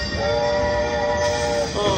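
A train chime from a Dancing Drums slot machine bonus: a bright sustained horn-like tone ringing over a dense jingling casino bed, loud and steady, with a brief second blast near the end.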